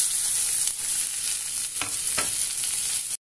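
A spice mix with chicken for pizza bread sizzles in a pan, frying steadily and loudly up close with scraping stirs, then cuts off abruptly.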